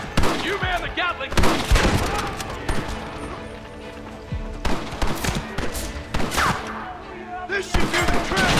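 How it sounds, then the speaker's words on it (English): Gatling gun fire in Red Dead Redemption, heard as loud bursts of rapid shots separated by short pauses, with heavy thuds and crashes mixed in and some game voices over the top. "You man the Gatling!"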